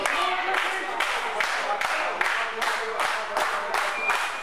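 Crowd at an indoor wrestling show in a small Oneyville venue, rhythmic clapping in steady repeated bursts with cheering, close and loud, no clear talk.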